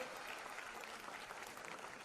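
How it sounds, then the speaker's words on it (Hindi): Loud, steady applause from a concert audience, dense clapping filling the whole stretch without pause. "इनके लिए जोरदार तालियां।"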